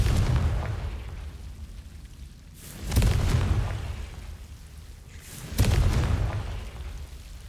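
Two loud Confringo explosive spell blasts in Hogwarts Legacy on PC, each a sharp burst that rolls into a long rumbling decay, about two and a half seconds apart, over a low steady game rumble in an underground gallery.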